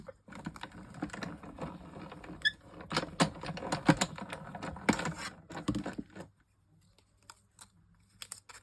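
Scissors snip paper shapes for a mixed media card, with irregular close clicks and faint squeaks in quick bursts, then a few scattered snips before quiet.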